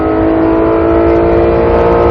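A loud Porsche GT3 RS engine revs hard and climbs in pitch, a steady strained roar filling the whole moment up close.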